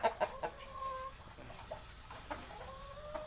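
A gamecock rooster named Raptor, being conditioned as a derby sweater, clucks in a few short, near bursts over soft farmyard background, with brief tonal calls scattered through the clip.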